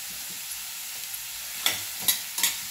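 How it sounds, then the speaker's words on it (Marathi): Roasted green chilies and flour being stirred in a pan, faint soft scraping with three brief louder clicks of the spoon against the pan near the end, quiet and close. "मिरची चांगली भाजून घ्यायची आणि त्यानंतर ही चक्की घालून घ्यायची आणि मिक्स करून घ्यायची"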